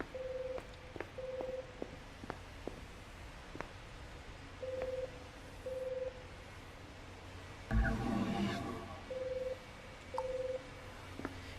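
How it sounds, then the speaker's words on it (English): A telephone in the sci-fi puzzle shooter video game The Corruption gives repeated short electronic ringing bursts, faint and evenly spaced with gaps between, plus a brief louder clatter partway through. "Hear a phone."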